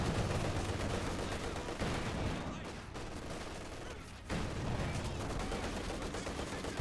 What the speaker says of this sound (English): Grenadiers taking some fire.